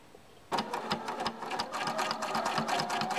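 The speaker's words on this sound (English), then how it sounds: "we're going to start by sewing down the folded side." A sewing machine starts up and stitches steadily along a folded fabric edge, a close, rapid mechanical chatter running without pause after a short quiet lead-in.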